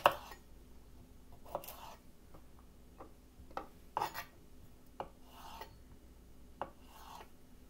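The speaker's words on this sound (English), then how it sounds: "Now for these, I'm just going to chop the tops and the bottoms off" A knife cuts the tops and bottoms off salad vegetables in a quiet, close binaural setting: sparse crisp chops and short scraping rasps on a board, spaced irregularly, with no talking.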